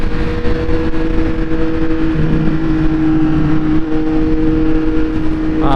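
Triumph Speed Triple 1200 RS motorcycle engine running with steady induction roar and a shift in engine note partway through, loud and continuous with no talk.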